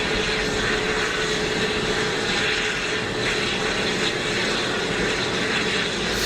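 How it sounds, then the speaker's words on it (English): A departing airliner roars off the runway at Geneva Airport, a loud, steady broadband engine rush with a faint whine, close and continuous, with no voices. "Super low noise departure."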